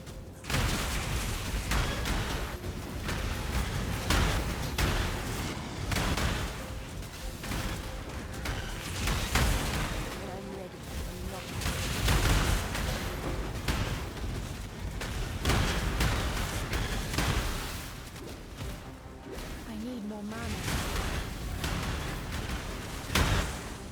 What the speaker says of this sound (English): As you can see, we have the Profane Bloom explosions, we have the Night Proliferation,